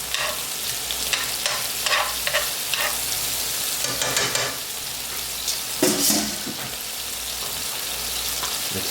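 Garlic fries in a pan for baked mac and cheese, a steady close sizzle with scraping stirs of a utensil breaking through now and then.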